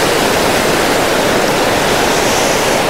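A rushing Himachal river pours steadily, its broad, dense roar of flowing water loud and continuous throughout with no pauses.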